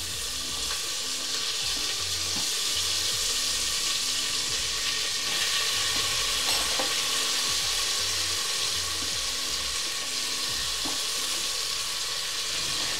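Tomatoes and curry leaves frying in a pan, a loud continuous sizzle with occasional stirring scrapes throughout, no talk.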